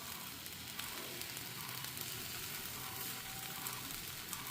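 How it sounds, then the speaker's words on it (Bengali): Appam batter fries on a hot dosa tawa with a soft, even, continuous sizzle. It is quiet and close, with occasional faint pops and no speech. "সেটাকে ভাজবো আমি এখন এই ধোসার তাওয়ায়।"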